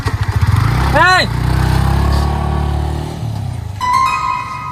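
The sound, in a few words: new motorcycle engine running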